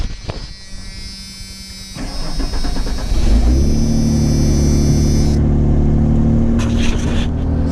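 A 1992 Ford F-150 truck with leaking exhaust cranks over with the starter, fires and settles into a loud, rough, steady idle close by, with no talking.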